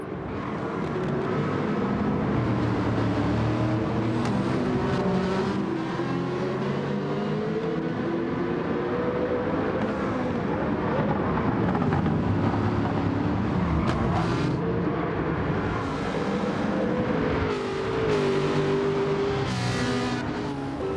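Aston Martin Vantage race car at Interlagos in Gran Turismo 7, its engine droning continuously and loud with rising and falling revs as it chases another car through corners, with no talk.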